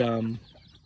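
A straight bred brown red gamecock, one of a flock of free range gamefowl, gives a single short, close cluck lasting under half a second, followed by quiet outdoor background.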